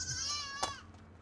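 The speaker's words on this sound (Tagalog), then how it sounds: "maraming kambing eh" Goats give a short, nasal, wavering bleat, brief and moderately close.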